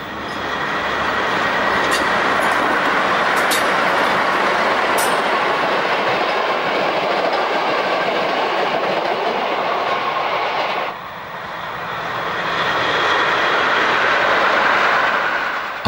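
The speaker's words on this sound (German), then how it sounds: "Zuletzt unterfährt der Zug den Standpunkt Gerwigfelsen." Train running on the Black Forest Railway, passing below the Gerwigfelsen viewpoint: a loud continuous rumble of rolling wheels with occasional clicks and squeals, dipping briefly before swelling again.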